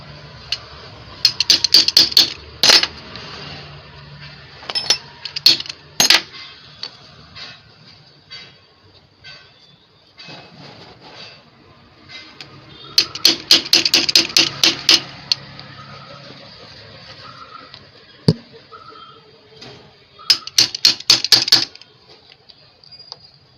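Sharp metallic hammer taps cut the outer bolt holes in a 1 hp air compressor head gasket, coming in several rapid clusters separated by quieter handling sounds.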